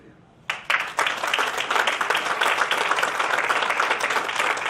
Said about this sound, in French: Je pense que ça vaut la peine de l'applaudir.